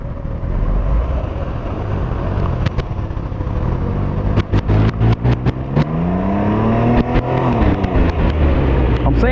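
A 2021 Can-Am Ryker Rally three-wheeler revs hard and drives past, engine pitch climbing and sweeping in loud bursts with sharp throttle blips near the middle, while people talk over it.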